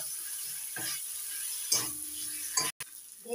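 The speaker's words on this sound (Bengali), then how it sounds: "এবার দিয়ে দিচ্ছি ভেজে রাখা আলু।" Fried potatoes go into a pan of sizzling masala for a rohu fish curry, with short bursts of scraping and stirring over a light, steady sizzle at close range, no voices.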